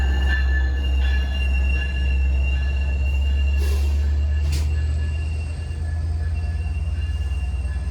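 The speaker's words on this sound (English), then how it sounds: "we catch the arrival of Montauk Branch Train number 80" A Long Island Rail Road diesel train on the Montauk Branch arrives with a short consist of one locomotive and two cars, its engine a steady, loud, deep drone with faint wheel squeal and brief hissing bursts.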